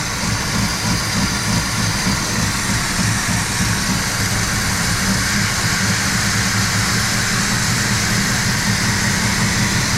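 An old Oldsmobile engine runs rough and lopey, a steady loud droning idle with an uneven low pulsing throb that carries on without a break.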